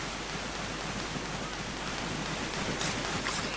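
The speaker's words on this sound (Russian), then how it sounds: "Водопад, что ли, где-то?" Waterfall ambience in Assassin's Creed Rogue, a constant, full rushing hiss of falling water that stays steady and loud with no pauses.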